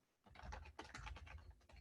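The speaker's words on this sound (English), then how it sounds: "I'm just typing in right here" Rapid keystrokes on a computer keyboard come in a quick, uneven run of close clicks and taps, quiet and alone without any talking.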